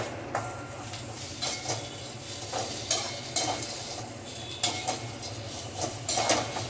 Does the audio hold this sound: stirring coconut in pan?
yes